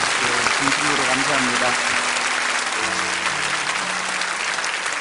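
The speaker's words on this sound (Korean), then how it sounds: "우리 모든 우리 주일학교 또 교역자 또 우리 선생님들 한번 박수로 좀 격려해 주시면 좋겠습니다" A congregation applauds during a Korean church Sunday service, a loud, steady wash of clapping filling the whole stretch, with a voice speaking briefly over it.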